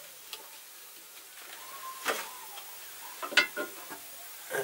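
Carrot barfi mixture pressed into a pan, with soft scattered clicks and light scraping taps of a utensil against the pan, faint and irregular over quiet background.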